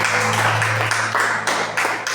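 A church congregation claps in a steady, rhythmic beat during worship, loud and full, over a sustained low musical drone.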